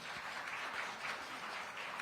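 An audience at a round-table event with the NIH director claps briefly in a soft, even patter of applause that stays faint and distant with no voices over it.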